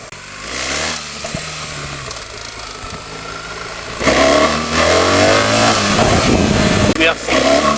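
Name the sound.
BMW GS 1300 motorcycle riding, chain and engine noise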